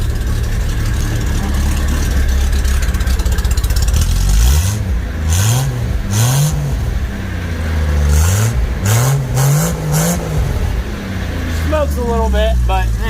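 An old Rambler inline-six car engine with a loud muffler revs up in several rising and falling pulls over a steady rumbling idle, close and loud throughout.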